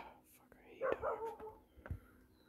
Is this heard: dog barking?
yes